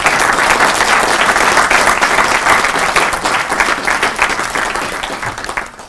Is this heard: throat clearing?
no